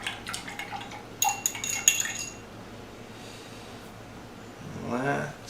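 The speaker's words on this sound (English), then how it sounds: "Let's give this a stir with our bar spoon." A bar spoon stirs a cocktail with rosemary and peppercorn in a glass, giving a quick run of light metallic clinks close by. The clinking then fades into a quiet room, and a voice murmurs near the end.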